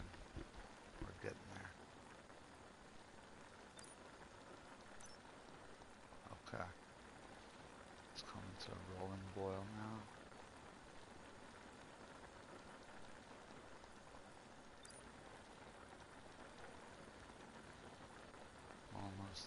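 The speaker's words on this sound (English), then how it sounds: "You can hear it bubbling." Beer bubbling while brewing a coffee stout in the Brewmaster brewing simulator game, a faint, steady patter of small bubbles like light rain, with occasional soft louder blips.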